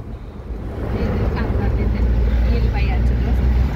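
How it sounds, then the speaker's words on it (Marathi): A fast-moving car gives a steady interior road roar and engine rumble that builds slightly, with people talking over it. "हळू घ्या ना गाडी, कसली फास्ट चालवत आहे."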